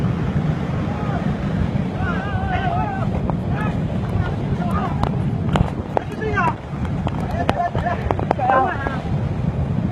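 Strong storm wind roars steadily across the microphone in a Vietnamese village where houses have been blown apart, a dense low rumble filling the whole stretch with brief gusty swells, while people talk over it.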